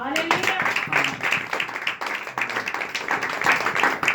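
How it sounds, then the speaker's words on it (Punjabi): A church congregation at a thanksgiving prayer clapping hard together in a quick, steady rhythm, loud and continuous, with voices mixed in. "ਤਾਲੀ ਮਾਰੀਏ ਜ਼ੋਰ"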